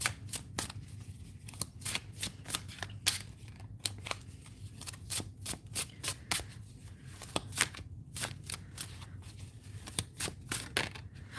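Tarot cards are shuffled by hand in quick, irregular snaps and riffles, a faint, dry crackle of card edges repeating over a low background hum.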